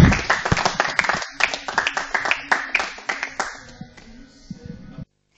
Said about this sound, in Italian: Glielo facciamo un applauso al Presidente